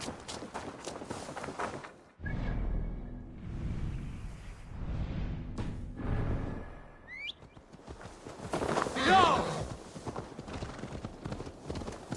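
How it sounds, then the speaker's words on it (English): Horse hooves clip-clop in a steady walking rhythm in the video game Assassin's Creed Valhalla, close and clear, with faint ambient game sounds and a brief bird call. "how to deliver Magni his horse"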